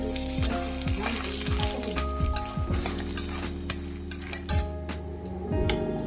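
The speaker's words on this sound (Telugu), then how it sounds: "ఇప్పుడు ఇందులో ఇంగు పలుకులు కూడా వేసి వేయించుకున్నాము." Pieces of asafoetida frying in oil over a low flame, a continuous close sizzle with frequent metallic clinks and scrapes of a spoon stirring against the pan.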